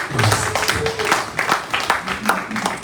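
A church congregation claps and cheers in acclamation at a celebration, a steady burst of hand claps mixed with voices and shouts throughout.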